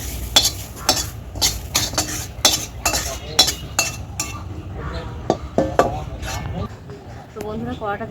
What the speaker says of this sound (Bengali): কড়াটা দিয়ে পরিষ্কার করে নিয়েছি